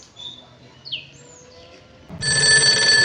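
A telephone rings loudly in a home, its bright electronic trill starting partway through and continuing steadily, after soft bird chirps and quiet background.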